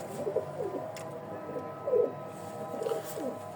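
Pigeons in a loft cooing softly in a repeated pattern of low, rolling calls, with a slightly louder burst near the middle, over faint background noise.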